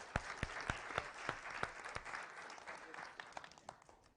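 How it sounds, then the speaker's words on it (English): A conference audience breaks into a round of applause, sharp individual claps standing out over a dense, steady clatter that gradually thins toward the end. "Let's give this man a round of applause"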